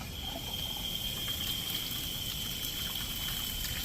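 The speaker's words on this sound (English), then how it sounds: "Turn the water on." Water from a freshly flushed shower valve runs steadily into a bucket, a continuous broadband rush with a faint high whine, close and unbroken throughout, no voices.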